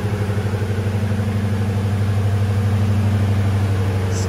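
A truck engine idles through stock mufflers, an even, throbbing low rumble with a steady pulsing beat, close and continuous for a few seconds with no voices.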